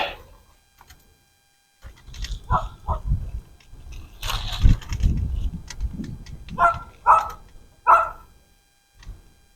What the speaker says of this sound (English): the guard dog